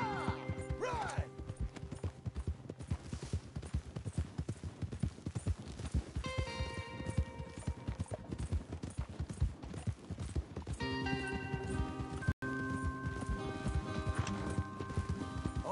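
Rhythmic clip-clop of several horses' hooves trotting continuously in the video game Red Dead Redemption 2, with a horse whinnying and music-like tones layered over the steady hoofbeats.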